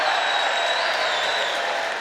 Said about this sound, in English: A sarcastic cheer from the audience